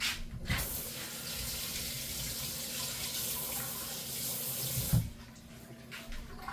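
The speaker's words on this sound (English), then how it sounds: "I have a few basil leaves. I'm gonna wash them." Kitchen tap water runs steadily over a few fresh basil leaves being rinsed, a continuous close splashing stream with a brief sharper splash near the end before it eases off.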